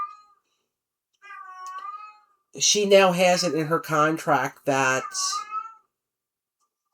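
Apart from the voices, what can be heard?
cat meowing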